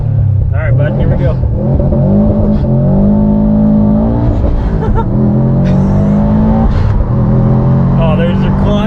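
A Stage 2 Subaru STI accelerates hard. The engine note rises loud and close through the gears, with people talking excitedly over it.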